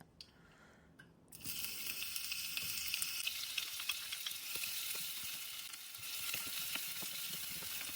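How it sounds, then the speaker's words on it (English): Onions hit hot cooking oil in a pan with a sudden loud sizzle after a quiet second, then keep frying with a steady crackling hiss and small pops, close and continuous. "fry the onions until they are translucent or fragrant"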